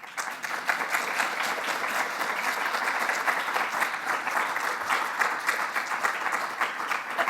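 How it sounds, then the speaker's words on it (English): An audience claps at the end of a conference talk on workshop design for game studios: a full, even wash of many hands that continues steadily for several seconds without letting up. "that's clapping."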